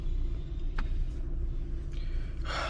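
Steady low road rumble inside a car on a long highway drive from Las Vegas to Memphis, Tennessee, continuous and even with a few faint clicks and a brief hiss near the end.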